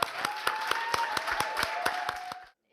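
NASA scientists applaud and cheer at the Perseverance Mars landing, with distinct sharp claps rising over a steady crowd wash and a sustained tone beneath, stopping abruptly near the end.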